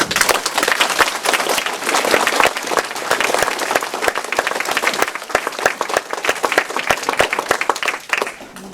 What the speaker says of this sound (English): I think everybody deserves a round of applause.